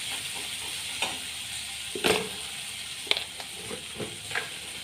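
Chopped okra pieces stirred in a hot pan, a soft steady sizzle with a few distinct scraping strokes of the spoon at irregular intervals, close and moderately quiet.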